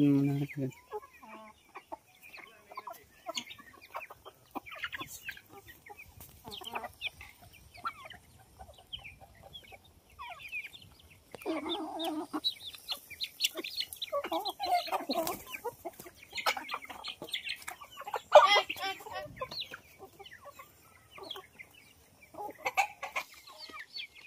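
Several native chickens cluck and chatter on and off, close by, with scattered rustling and occasional louder bursts.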